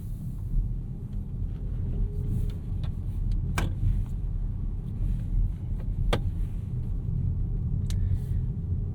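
A 2024 Volvo XC40 Recharge single-motor electric SUV pulls away from rest, heard from the cabin as a steady low road and motor rumble with a few faint clicks and ticks.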